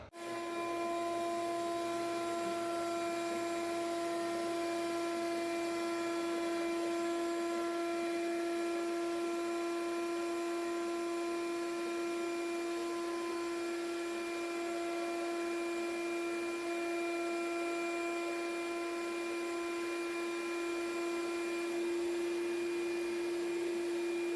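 A Milwaukee M12 detail sander runs continuously on drywall, a steady high-pitched electric whine with a buzzing edge, close and unbroken throughout with no voices.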